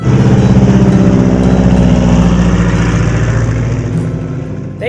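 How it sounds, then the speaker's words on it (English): A de Havilland Beaver's radial piston aircraft engine drones loudly and continuously with a deep throbbing rumble and rough harmonic texture, close by and alone. "that engine could be found, 'cause the pilots love to hear that soothing, sweet sound"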